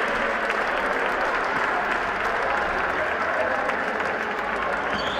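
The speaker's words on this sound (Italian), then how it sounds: "Un grande applauso" An audience applauds at an award ceremony for a memorial event, sustained dense clapping from a large crowd that stays loud and even throughout, with no clear speech on top.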